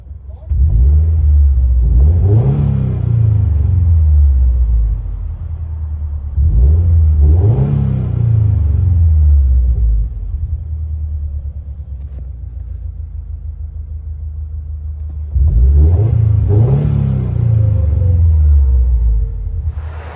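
2020 Subaru BRZ 2.0L with a PERRIN cat-back dual exhaust revving, heard from inside the cabin, three loud rising blips separated by pauses with a steady low rumble between them.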